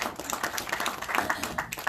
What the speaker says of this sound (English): Let's give a round of applause for Bernadine